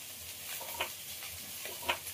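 Susni greens frying in a pan, with a soft continuous sizzle and two or three faint stirring scrapes spaced evenly, quiet and close.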